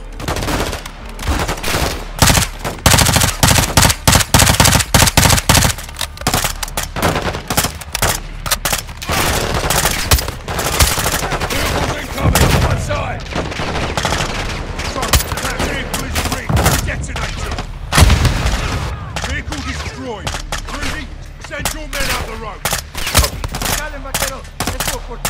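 Heavy cover fire in a Call of Duty combat mission, dense rapid bursts of automatic gunfire and sharp shots crackling almost continuously, with occasional voices beneath.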